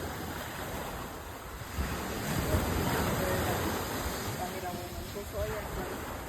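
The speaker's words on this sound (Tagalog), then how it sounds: "Kaya sobrang laki ng alon." Large waves surge and crash steadily at a beach resort in Mindanao, a broad rushing roar with wind noise, while a person talks faintly over it.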